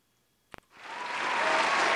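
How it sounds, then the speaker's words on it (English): A couple of sharp claps ring out, then a crowd breaks into full applause that swells and holds loud and dense to the end. "We don't need all that clapping."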